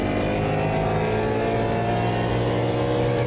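A manual-transmission Ford Mustang S550 pulls hard, its loud, throaty engine drone steady and close with rich rumbling harmonics and no voices.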